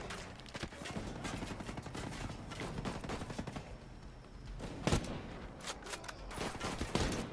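Gunfire in the video game Ghost Recon Breakpoint as a full enemy squad is taken down. Rapid overlapping bursts of automatic fire keep up a dense, continuous clatter, with a few sharper, louder shots standing out near the end.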